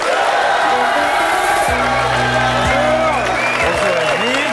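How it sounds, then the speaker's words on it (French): A studio audience on a French television show claps and cheers for an arriving guest, with loud, continuous applause and whoops. Sustained musical tones play underneath. "Il s'agit de Florian Gazan que nous applaudissons bien fort."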